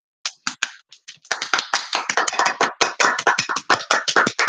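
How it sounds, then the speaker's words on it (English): Clapping from the visual novel game Doki Doki Literature Club, a handful of sparse, separate claps that quickly build into quick, crisp, fairly close applause from a few pairs of hands. "The four of us applaud."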